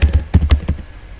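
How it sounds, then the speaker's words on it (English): Quick bursts of keystrokes on a computer keyboard, about eight close, crisp taps in an uneven rhythm, with no talking. "So here I am typing"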